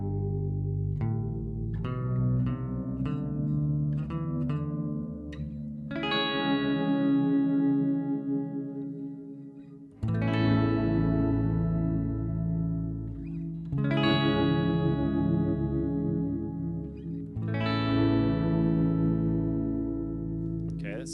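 Headrush guitar pitch shifter effect set one octave down, giving played guitar notes and strummed chords a deep, thick low tone that sustains and rings loudly and continuously.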